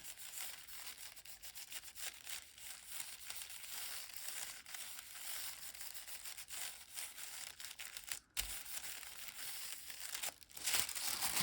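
Paper pressed onto a mixed media piece and carefully rubbed by hand, giving a close, steady crinkling and rubbing texture that runs throughout with a brief pause near the end.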